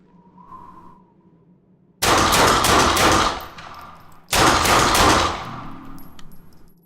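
Two loud bursts of rapid gunfire from headshots in the Fallen Earth video game, each a dense volley of cracking shots lasting about a second and a half, separated by a quiet gap with a faint tone beforehand.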